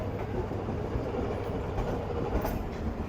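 The Karakoram Express passenger train on a winter run toward a station platform: a continuous, loud rumble of rolling wheels with faint rhythmic clatter on the rails and no speech.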